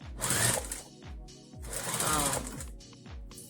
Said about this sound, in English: And I'm sewing it not right on the edge.